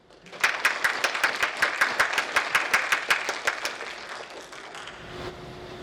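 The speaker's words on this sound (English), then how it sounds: "Let's give Dr. Joan Props a round of applause" Audience applause for an award honoree at an alumni awards ceremony, a dense burst of clapping that starts suddenly, holds steady, then thins and fades toward the end.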